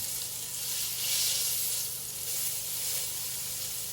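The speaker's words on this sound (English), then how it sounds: "And we're gonna sear our lamb chops all the way around." Lamb chops sear in a smoking hot pan, giving a soft, steady hiss that swells and eases a little, alone with no talking.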